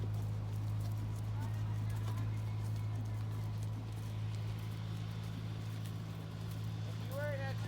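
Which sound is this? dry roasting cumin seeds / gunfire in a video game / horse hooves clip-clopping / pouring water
horse hooves clip-clopping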